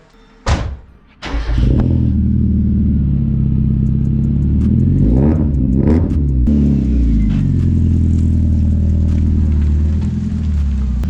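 A Mazda Miata engine with a new ISR full exhaust starts with a couple of sharp bursts, then revs up and down repeatedly with a deep, throaty exhaust roar before settling into a loud idle.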